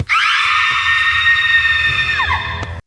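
A woman's long, loud, high-pitched scream holds steady for nearly three seconds, then falls away and cuts off abruptly.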